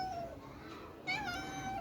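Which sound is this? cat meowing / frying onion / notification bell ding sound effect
cat meowing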